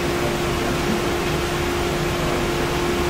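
Steady broadband whoosh of a ventilation fan running continuously with a faint constant hum underneath, no other sounds.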